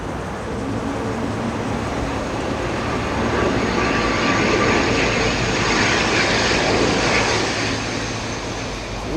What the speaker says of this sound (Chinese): 然后等一下应该会有飞机过来